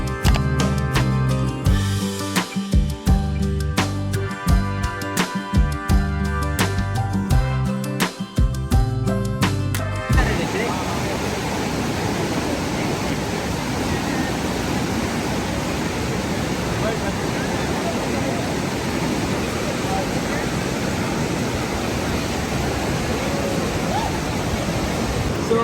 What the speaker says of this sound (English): We've come to the start of the rapids.